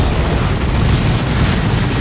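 Heavy, continuous explosions from the Dawn of War 2 strategy game tear apart a Warp Spider squad, a dense, loud, unbroken roar of booms and bursts filling the whole stretch.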